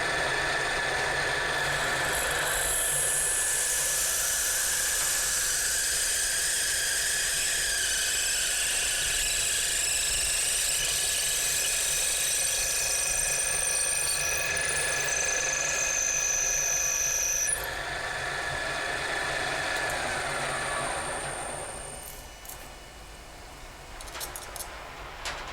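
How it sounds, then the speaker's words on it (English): A 5 mm carbide drill bores deeper into a hole in a hardened steel ball, giving a steady, loud high-pitched whine with sustained tonal ringing that shifts partway through before easing off near the end. "This is an ordinary 5 millimeter carbide drill. I will use it to enlarge the hole to the final diameter."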